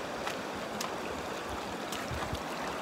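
A river near Bonneville Hot Springs flows in a steady, broad rush of water, close and continuous, with a few brief splashy bursts and no talk.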